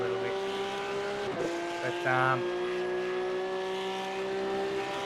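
A race car in the iRacing sim coasts off the throttle into a hairpin, its engine braking with a steady tonal drone that shifts pitch, with a brief squeal partway through under a commentator's talk.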